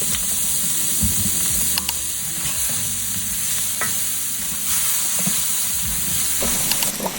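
Onions sizzling in a pan for chicken Alfredo sauce, a loud steady hiss with occasional stirring knocks and scrapes throughout, no talking.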